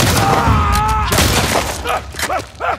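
Gunfire in The Last of Us Part 2, heard as a few sharp broadband bursts and booms at the start and in the middle, with game sound and voices under and after the shots.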